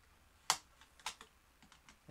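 Sharp plastic clicks from a PS4 controller opened up for repair, a few distinct close snaps with softer ticks between them, quiet and irregular.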